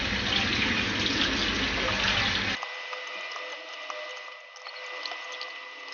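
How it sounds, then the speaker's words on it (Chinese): Rice-field carp rinsed under a running kitchen tap: a loud, steady rush of water for a couple of seconds, then the flow cuts off to a quieter trickle and faint hum. "把鱼放置在水龙头下方，清洗干净。"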